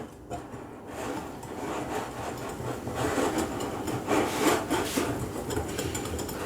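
Flour, yeast and cocoa being stirred together in a mixing bowl, a continuous close scraping and rubbing that swells slightly, heard alone with no talk.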